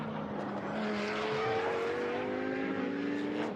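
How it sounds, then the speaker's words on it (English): A GT2 race car locks up and spins at turn 10 during a race at the Algarve circuit, with a loud, steady engine roar and a rising and falling tire squeal carrying through the whole stretch. "Lock up there, and a spin for Krabech, who's got it wrong at turn 10."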